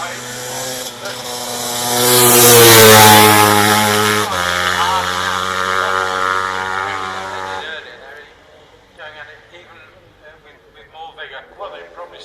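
Racing motorbike at the Shelsley Walsh hill climb, its loud engine roaring and rising in pitch as it passes close by, then fading away while a commentator talks over the crowd.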